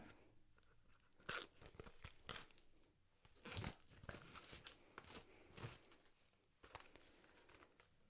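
Crinkling and crunching of plastic packaging being pulled and torn open with a pen instead of scissors, unboxing a Trezor Safe 3 hardware wallet, in several loud bursts with short pauses between, close by and with no talking.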